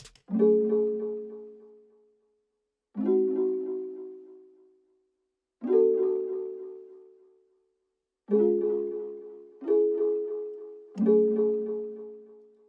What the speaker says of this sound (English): so these chords sound like this.